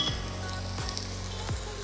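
Onion, garlic and carrot fry in a pan for a colonial-style dish, giving a steady close sizzle with a few light clinks of a utensil against the pan.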